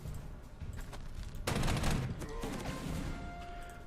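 Artillery fire in the Panzer Corps 2 strategy war game: a burst of crackling gunfire and explosions breaks out midway, loud and dense over a low rumbling battle backdrop, with no talking.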